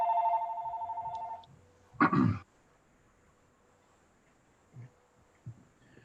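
An electronic telephone rings with a trilling burst at a board meeting, followed by a clatter as the handset is picked up, then faint room noise.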